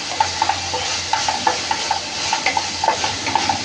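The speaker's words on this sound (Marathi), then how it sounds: "कांदा छान परतून घ्यायचा." Onion sautés in a pan with green chilies over raised heat while a spatula clinks and scrapes against the metal in quick, repeated taps over a soft sizzle, close by with no speech.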